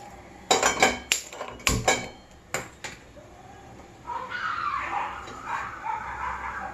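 A metal kadai set down for cooking wheat-flour halwa gives several sharp clanks and clatters, followed by a softer rustling, scraping stretch.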